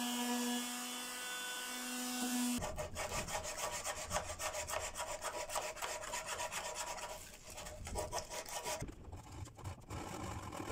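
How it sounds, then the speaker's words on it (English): Hand sanding of a wooden part for a small boat build, giving a steady, close rasping scrape in repeated strokes that runs continuously for several seconds after a brief quiet hum at the start. "carefully sanded these back as well"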